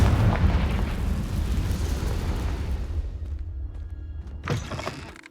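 A Confringo blasting spell explodes in Hogwarts Legacy with a loud, rumbling boom that fades over a few seconds, followed by a smaller burst near the end.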